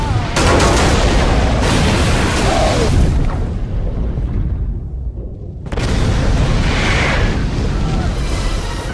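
Explosion of a submarine struck by a torpedo in a World War II naval battle at sea: loud, dense booming blasts and rumble filling the clip, dropping away briefly before a second heavy roar, with a voice talking over it.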